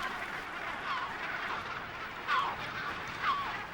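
Yellow-footed brown booby calling on an offshore rock off Cocos Island in the Pacific, a few short honking calls at a moderate distance over steady surf-like background noise.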